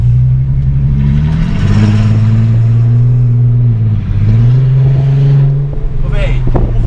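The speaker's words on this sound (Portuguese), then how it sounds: "ronco desse carro tá indecente demais" A car engine revs hard with a deep, loud exhaust rumble, rising and falling in drawn-out pulls and dipping briefly between them, while people talk over it.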